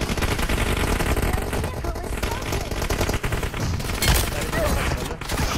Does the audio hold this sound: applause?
no